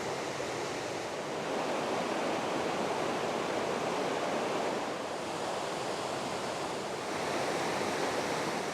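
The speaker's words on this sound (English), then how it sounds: "the waterfall as the water spills over the dam here on Middle Creek" Water spills over a dam on Middle Creek below Rainbow Lake, making a steady, broad rushing roar that fills the whole stretch with no pauses and no voices.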